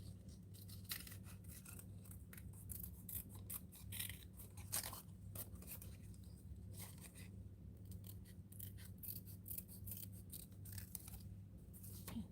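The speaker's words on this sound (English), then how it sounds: "just make a hole on the inside and then go and cut" Scissors snip through paper while a shape is cut out for an art journal collage background, the quiet repeated cutting strokes close but faint over a steady low hum.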